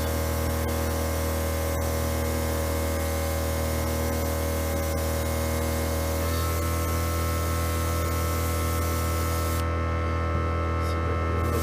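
An airbrush driven by a compressor sprays thin paint onto a juvenile rainbow trout model, a constant hissing spray over steady electrical hum, close and unbroken, with the hiss cutting out briefly near the end.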